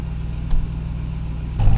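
Stock exhaust of a Ram TRX idling, heard from inside the cab with the rear window open: a steady, deep, rumbling drone with a brief swell midway and a louder surge of engine noise at the end, no talking.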